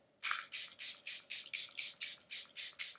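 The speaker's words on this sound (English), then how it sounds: "for setting spray, I'm going to take my Charlotte Tilbury Airbrush Flawless Setting" Charlotte Tilbury Airbrush Flawless Setting Spray is pumped in about ten quick, even misting bursts, close and crisp, each a short hiss with a brief gap between.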